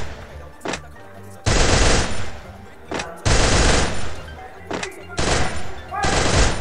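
Rapid video-game gunfire sprays in loud sustained bursts, four long volleys separated by brief pauses with single shots between them.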